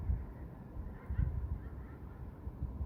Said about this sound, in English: Seagulls laugh like that.